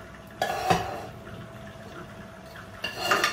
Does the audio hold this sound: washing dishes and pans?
yes